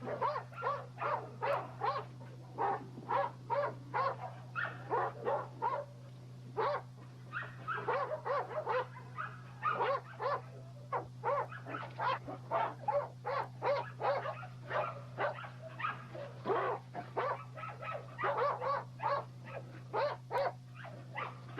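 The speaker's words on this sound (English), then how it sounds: "The pups, the red ones are from the sisters, and the black ones are from Opie's sister, the Commander" Several dogs, including young pups, bark repeatedly in a yard. The sharp, loud barks come in busy overlapping bursts over a steady low hum, with no talking.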